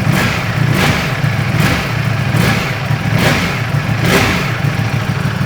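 A Ducati Panigale V4 motorcycle engine revs repeatedly with its exhaust valves closed, a deep throaty rumble rising and falling about five times, loud and close with no talking.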